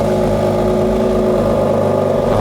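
A BMW X4 M Competition SUV engine idles loud and close with a steady, deep mechanical hum and a slight rumbling pulse, with no talking.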